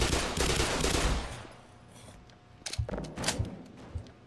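Rapid bursts of weapon fire crackle loudly in the video game Black Mesa, a dense volley up front followed by sharper scattered shots and impacts, with no talking over them.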